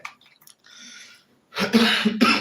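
A single close cough follows a quiet breath and faint rustling, then a short second burst.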